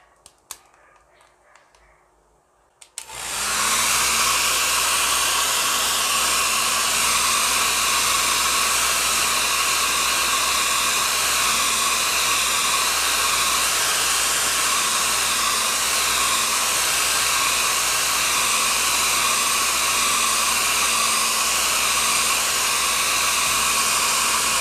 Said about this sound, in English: I'm going to help it dry with a hair dryer.